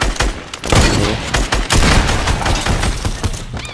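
Rapid bursts of gunfire from the video game Fortnite crackle loud and dense, overlapping volleys and sharp shots filling the whole stretch with no voices.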